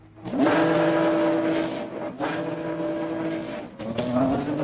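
A Nissan GT-R launches and accelerates hard in the Assetto Corsa racing game. The loud engine note climbs steadily in pitch, then drops sharply at two upshifts and climbs again, with no talking.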